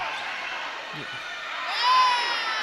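A high school girls' basketball crowd at Sarasota vs. Southeast roars in a steady wash of noise that swells louder near the end, with faint shoe squeaks underneath.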